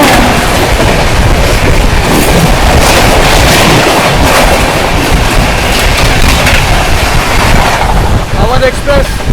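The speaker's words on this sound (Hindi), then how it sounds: "सामने से आ रही है बरौनी बांद्रा टर्मिनस अवध एक्सप्रेस" Awadh Express, the Barauni–Bandra Terminus passenger train, passing close by on the adjacent track in India, a loud continuous rush of wheels and wind with rhythmic rail clatter filling the whole stretch, with some talk mixed in.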